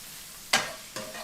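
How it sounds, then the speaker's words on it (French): Shrimp frying with garlic in a pan, two bursts of loud sizzling as the food is stirred, the first sharper and the second softer, over a quiet background. "On continue à faire revenir donc nos crevettes"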